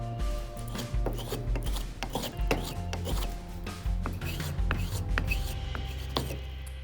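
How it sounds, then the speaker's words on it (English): A spokeshave smooths a rough-cut wooden mallet, giving repeated close scraping and shaving strokes in a steady back-and-forth rhythm, with no talking. "we're gonna smooth it up with a spoke shave"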